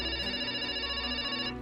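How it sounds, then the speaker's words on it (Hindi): A telephone rings steadily in a domestic scene, a continuous electronic tone that holds loudly and evenly before cutting off near the end. "देख भाई, तेरा किसी का फोन आ रहा है।"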